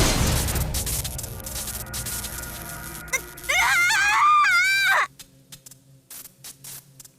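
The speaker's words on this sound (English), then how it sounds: "shriek escaped Aoko's mouth" A girl's high wavering shriek from the visual novel Witch on the Holy Night, loud and brief, rising over dramatic background music and a rumbling impact before cutting off into near silence.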